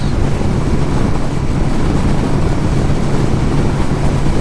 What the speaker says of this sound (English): Looks like a pontoon boat here.